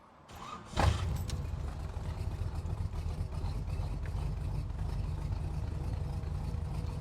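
A 1966 Chevrolet Corvette coupe with a 427 V8 fires up from a cold start, a brief crank bursting into a loud, steady, rumbling idle that holds close and unbroken.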